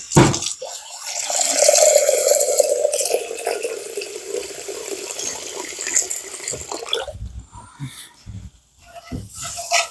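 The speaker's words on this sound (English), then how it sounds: "And I'm going to add some more water to this." Water is poured from a tap into a pan of simmering hamburger gravy, a bright running stream lasting several seconds before it stops, followed by quieter kitchen sounds.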